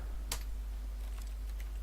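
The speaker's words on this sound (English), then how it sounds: "I love the clicking noise being a computer noise." Computer clicks in the video game The Stanley Parable: a sharp, bright click near the start, then a few fainter clicks over a steady low hum, with no talking.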